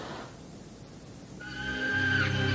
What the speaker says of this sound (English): Is that like a horse screaming?